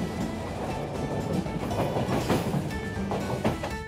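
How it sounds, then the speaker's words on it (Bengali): The Howrah Bikaner Superfast Express rumbles along the rails just after leaving Howrah station, heard from inside as a steady low roar with faint rhythmic clatter and occasional squeaks. "একদম রাইট টাইমে Howrah Bikaner superfast express Howrah station ছাড়ল।"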